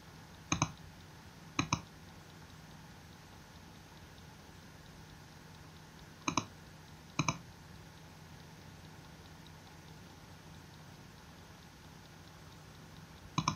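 Computer mouse clicks on a quiet desk: two pairs of sharp clicks spaced several seconds apart, another pair at the very end, over a faint steady hum.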